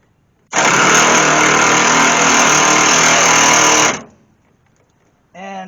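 Cordless ratchet driving fender bolts on a 1966-74 Plymouth Valiant or Dodge Dart, a loud, close, continuous whirring buzz lasting about three seconds before cutting off, followed by a brief voice.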